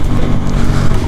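A KTM 390 Adventure motorcycle fitted with a PowerTRONIC ECU revs under a blip of throttle in traffic, a loud, close, gritty engine roar filling the whole brief moment.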